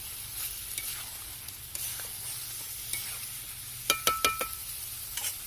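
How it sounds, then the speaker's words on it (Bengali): Potatoes stirred into a simmering Bengali curry in a pan, giving soft continuous sizzling with a few sharp clinks of a spoon against the pot near the end, no talking. "আলু দিয়ে মিশিয়ে নেব"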